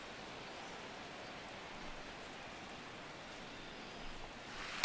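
Steady rain falls during a baseball game in the MLB The Show 16 video game, a soft, even hiss that holds level throughout with no voices.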